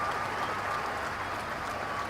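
Vast crowd outside Buckingham Palace cheering and applauding for the Queen's 90th birthday, a steady dense roar of clapping and cheers filling the whole moment without a break.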